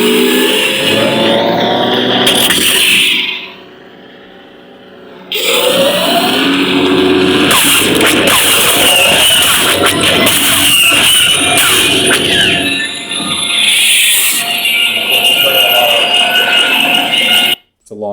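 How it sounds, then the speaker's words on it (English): A lightsaber sound font plays a speeder bike engine effect: loud, whining, revving bursts with a short drop-out partway through and an abrupt cut at the end. "We got the speeder bike"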